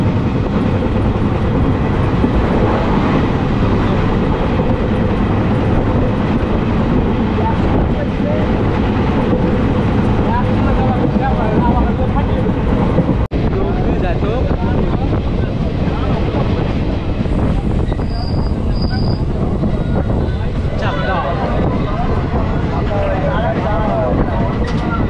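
A Sealdah–Lalgola passenger train runs at speed, a loud steady roar of wheels and carriage rattle with wind buffeting throughout.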